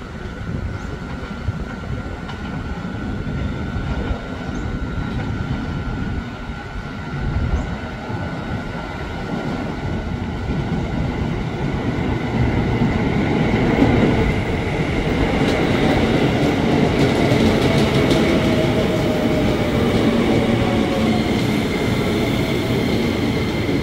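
KRL Commuter Line electric train, a JR 205 or TM 600 set, pulling into Universitas Indonesia station, with a steady rolling rumble and rail hum that grow louder and closer, plus faint high squeals, heard alone without talk.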